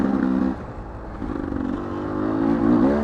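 Dirt bikes on trails at Captain Jacks in spring drone past nearby, their engines buzzing and rising in pitch as they rev and ride by, loud and continuous throughout.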